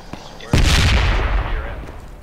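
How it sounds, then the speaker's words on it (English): A grenadier's launcher rounds pound a building in the Project Reality military game, with a sharp click followed by one loud, heavy blast that booms and rumbles away over two seconds. "My building's getting pounded by a grenadier."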